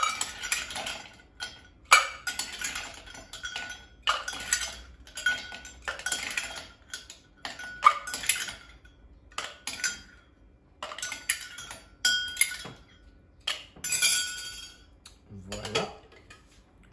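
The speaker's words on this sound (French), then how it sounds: "Ensuite, on vient remplir le shaker de glace." Ice cubes clink and clatter as they are dropped into a metal cocktail shaker while a margarita is prepared. Bursts of rattling repeat in an irregular rhythm over quiet gaps, close up and sharp, with no talking.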